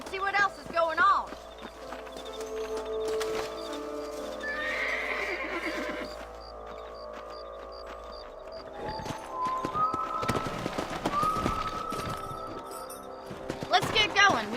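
Horses in the video game Red Dead Redemption clip-clop along at a trot with repeated hoofbeats and an occasional whinny, layered under game music and someone talking in the middle.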